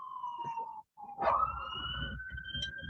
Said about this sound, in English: Oh, there goes the ambulance.